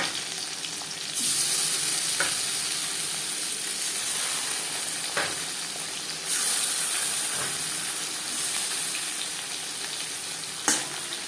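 Sarputi fish frying in a little oil in a kadai gives a steady, close sizzle and hiss, with a few brief stirring clicks and bursts of spatter and no talking.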